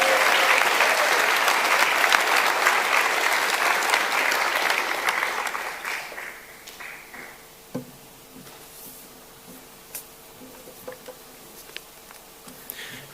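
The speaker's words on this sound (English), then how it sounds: "Let's give our finalists a massive round of applause." Loud audience applause for award finalists at the 2025 Northern Territory Australian of the Year Awards, a dense steady roar of clapping for about six seconds that fades into scattered claps and quiet room noise.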